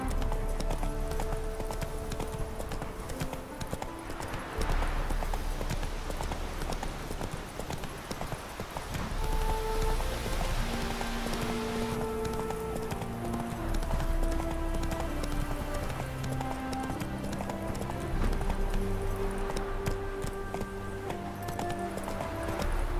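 Roach, the horse in The Witcher 3 game, gallops with rapid rhythmic hoofbeats, close and continuous, over a game music score, with a brief whinny-like swell partway through.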